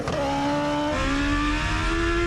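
A Smart car fitted with a Hayabusa motorcycle engine revs hard, a loud continuous high-pitched engine whine climbing steadily in pitch, close and alone.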